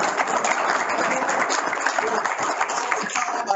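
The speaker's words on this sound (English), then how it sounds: "Big round of applause for our panel." Dense, sustained applause from a conference audience for a panel at an education session, a steady wash of many hands clapping at even loudness throughout.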